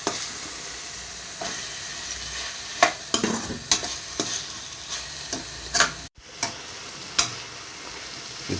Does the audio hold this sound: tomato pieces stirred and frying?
yes